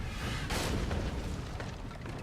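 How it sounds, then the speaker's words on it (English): Ship cannon fire in the naval combat of Pillars of Eternity 2: Deadfire, a loud booming blast near the start that rolls into a sustained rumbling roar for the rest of the moment. "Oh gosh, their cannons have more range than us."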